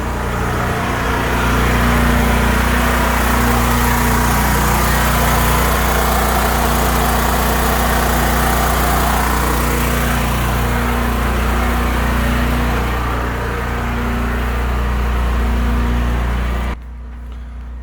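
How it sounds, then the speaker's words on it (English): A portable generator engine runs steadily at a constant idle-like drone, loud and close, with a strong low hum throughout before cutting off abruptly near the end. "I got my generator started and running"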